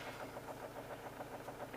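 A John Deere X724 riding mower runs shortly after a cold start, its engine chugging at a steady, slightly rough pulse close by with no pauses, and with oil overfilled in the crankcase.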